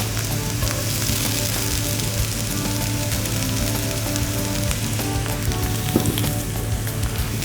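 Grated coconut and curry leaves sauté in a pan for a bhindi dish, a dense, even crackling sizzle up close with soft stirring touches throughout.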